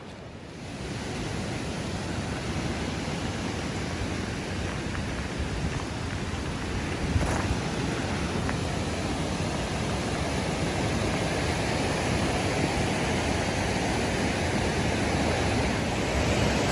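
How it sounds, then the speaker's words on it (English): A river rushes steadily near Mardalsfossen waterfall in Norway, a dense, even broadband roar of flowing water that holds close and constant the whole way through, with no voices over it. "Got the river behind me here"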